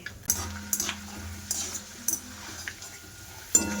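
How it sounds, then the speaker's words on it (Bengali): Peanuts fry in hot oil in a wok, a soft sizzle broken by repeated clinks and scrapes of a utensil stirring against the metal, close and without talk. "তেলটা গরম হয়ে গেছে এবার আমি বাদাম ভাজা করে নেব"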